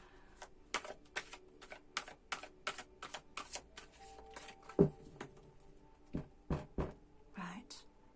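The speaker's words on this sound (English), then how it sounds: "So I'll just do a final shuffle for you." Psychic tarot cards being shuffled by hand, a quick run of soft crisp riffling clicks and slaps close to the microphone, with a few quiet murmured words around them.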